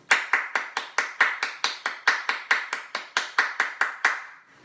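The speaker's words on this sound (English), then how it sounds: "join me from wherever you are in a round of applause for each of our graduates today" A single pair of hands claps in a steady, even rhythm, about seventeen crisp, close claps over four and a half seconds, applauding graduates at a virtual graduation ceremony, with no other sound.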